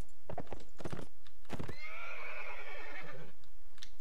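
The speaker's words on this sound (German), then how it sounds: "Pferd." A horse in the video game Mount & Blade Warband lets out a long, loud, wavering neigh, framed by a few hollow clip-clop hoofbeats before and after.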